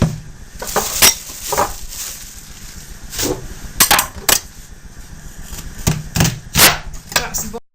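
A knife chops an onion on a board with sharp, close, irregular strikes and clicks, sometimes in quick runs and sometimes with pauses, against a quiet kitchen background.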